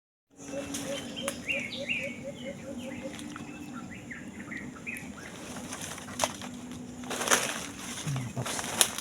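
A bird calling outdoors during a hunt in the Philippines, a series of repeated chirping calls in the first half over steady ambient noise and insects, with wing flaps and rustling bursts later.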